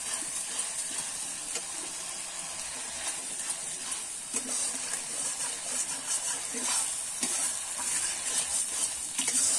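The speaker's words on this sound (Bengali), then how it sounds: "রসুন, আদা আর লঙ্কাটা কিন্তু আমি ভালো করে কষিয়ে নিয়েছি।" Garlic, ginger and chili fry in a pan on a Bengali tomato chicken stove, giving a steady, close hiss of sizzling oil with faint scrapes of stirring throughout.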